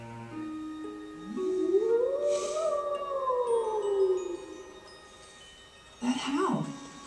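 A long rising-then-falling howl from a wolf-like creature in Tales of Symphonia: Dawn of the New World, heard alone and fairly loud, followed by a short second howl near the end.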